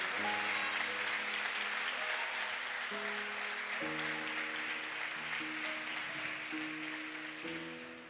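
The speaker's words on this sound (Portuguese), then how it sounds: "Então dê uma salva de palmas a Ele bem forte." Portuguese church congregation applauding during an Easter sermon: a dense, steady wash of clapping sustained throughout, with organ or keyboard chords sounding underneath and the applause tapering slightly at the end.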